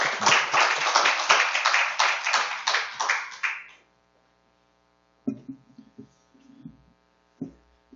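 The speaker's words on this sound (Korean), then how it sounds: "한번 우리 박수로 선교사님 환영하겠습니다" Church congregation at a Sunday service clapping to welcome a visiting missionary, a brief loud burst of applause that dies out after a few seconds, leaving a mains hum with a few faint taps and knocks.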